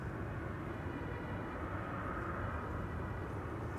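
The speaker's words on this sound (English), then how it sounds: "see if we can spot that RAF Embraer Phenom" An RAF Embraer Phenom jet on approach to land gives a steady, dense roar that stays loud and even throughout, with no breaks or talk.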